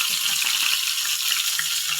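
Tilapia fries in a pan with a steady, bright hiss and crackle, close and continuous, with no voices over it.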